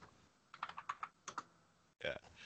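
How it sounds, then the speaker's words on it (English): Quick, close keystrokes on a computer keyboard come in short uneven bursts, with a brief pause before a final flurry of typing. "Oh, he's typing up all my charges."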